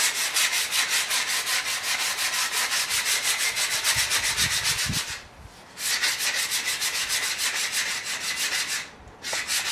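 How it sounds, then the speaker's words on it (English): Sandpaper is rubbed along a wooden stick used for driving steers and oxen, in fast, even back-and-forth strokes close to the microphone, with two brief pauses between runs of sanding. "we'll just take some sandpaper and start sanding it to get it nice and smooth"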